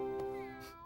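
A cat's meow from a children's cartoon, a single short, clear, rising-and-falling meow heard close up and alone.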